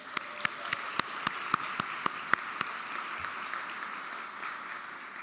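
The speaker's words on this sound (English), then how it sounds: "I think we should clap for that" Scattered applause at a gala, a handful of distinct, sharp claps standing out over a soft wash of clapping that fades into quiet room noise.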